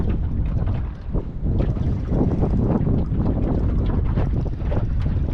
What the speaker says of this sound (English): It's getting a bit breezy out here now.